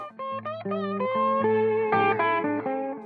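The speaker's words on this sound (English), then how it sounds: "He plugs in, he starts playing guitar," Electric guitar playing a quick melodic line of clean, bright notes with light effects, close and continuous with no voices.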